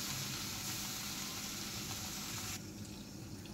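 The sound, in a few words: marinated fish frying in hot oil in a wok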